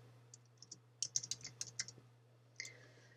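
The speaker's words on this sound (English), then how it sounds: "type my own text." Someone types text on a computer keyboard while formatting a Microsoft Word document: a quiet, irregular burst of crisp key clicks at close range, a few scattered taps and then a quick run of presses, over a steady low hum.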